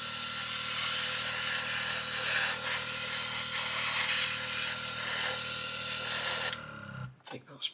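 A Gaahleri Serenair airbrush from a starter set sprays paint with a steady, close broadband hiss that runs for several seconds and then cuts off abruptly, leaving a few faint clicks and handling sounds.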